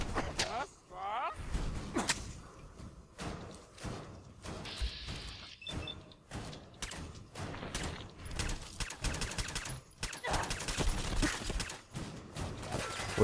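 Rapid bursts of Fallout 4 gunfire crackle and pop in dense volleys, with thuds and mechanical clicks mixed in, nearly nonstop.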